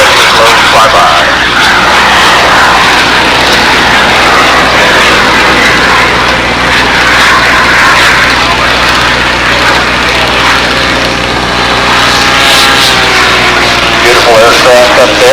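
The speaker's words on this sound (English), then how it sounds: "Here comes the aircraft," An RC scale model aircraft engine drones loudly and steadily through a slow flyby at a scale nationals event, with a commentator talking over the sound.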